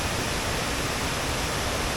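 Penawangan Srunggo waterfall roars in a steady, dense rush of falling water, loud and unbroken throughout with no voices.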